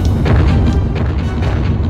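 Cannon fire in the PS2 game Jackie Chan Adventures rumbles as a continuous series of deep, loud booms and blasts with no clear gaps between shots.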